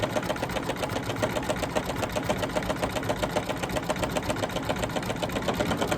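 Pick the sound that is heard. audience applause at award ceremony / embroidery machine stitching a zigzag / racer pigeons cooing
embroidery machine stitching a zigzag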